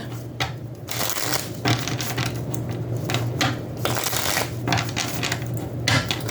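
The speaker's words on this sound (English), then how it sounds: "we're going to take another shuffle" Tarot cards being shuffled by hand, a run of quick papery riffles and slaps in repeated bursts with short pauses between, close and clear, with no speech.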